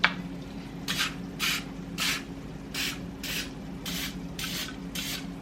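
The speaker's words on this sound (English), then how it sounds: "I spray the pan, or the liners, because I still can't get them to not stick." Cooking spray hisses onto a muffin pan and its liners in about eight short, evenly spaced bursts, close and fairly quiet, with no talking.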